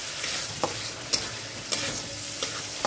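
Spice masala sizzles and fries steadily in a pan for mutton kosha after a splash of water is added, a continuous hiss broken by a few sharp clinks of a stirring spoon.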